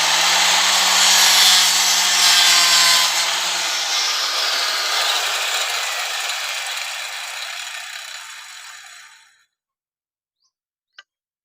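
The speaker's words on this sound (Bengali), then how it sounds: "একই মাপের আর একটি আমি বাটাম কেটে নেব।" A wooden batten is cut for a small idol stand, making a loud, steady rasping that gradually fades and stops, followed by silence and a single small tap.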